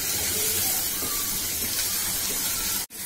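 Marinated chicken, seasoned with soy sauce, ginger-garlic paste and salt, fries in a pan with a steady, loud broadband hiss that runs unbroken for nearly three seconds before cutting off abruptly at the end.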